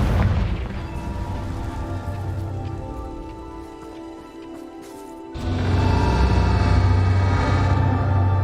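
A Confringo fire spell explosion in Hogwarts Legacy on PS5, a deep booming rumble that fades over several seconds and then flares up again into a louder, sustained roar.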